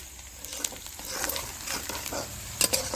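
Onion frying in a pan while chutney is made from tamarind blossoms, giving a steady close sizzle with stirring scrapes and a few sharper spatters, no talk over it.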